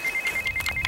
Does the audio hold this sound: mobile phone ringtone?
yes